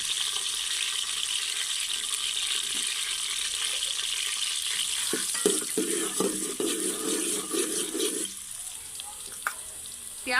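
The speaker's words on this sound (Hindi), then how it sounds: "घी गर्म हो चुका है। अब व्यूअर्स हम इसमें प्याज डाल देंगे।" Onions frying in hot ghee make a steady, close broadband sizzle with occasional stirring clatters partway through.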